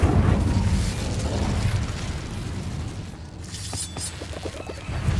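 Incendio fire spell cast in the Hogwarts Legacy video game, a loud whooshing burst that roars and crackles for a few seconds before fading into lighter rattling effects.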